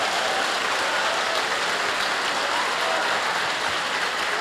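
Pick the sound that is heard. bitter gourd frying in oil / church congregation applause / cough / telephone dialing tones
church congregation applause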